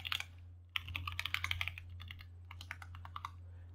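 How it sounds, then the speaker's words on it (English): Quick bursts of clicky typing on a computer keyboard over a steady low hum, close and moderately loud, with a short pause near the start. "if I type in some test credentials"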